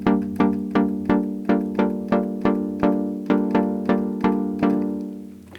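A Sequential Rev 2 synthesizer plays chords with two oscillators tuned a fifth apart, giving rich overtones. About a dozen evenly spaced plucked stabs repeat in a steady rhythm, each decaying quickly, loud and alone.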